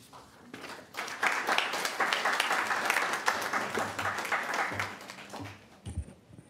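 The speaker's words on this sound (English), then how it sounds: "There is no clapping in city council chambers." An audience applauds in the Santa Clarita city council chambers at a council meeting, with dense clapping that swells quickly, holds steady for about five seconds, then thins to a few scattered claps.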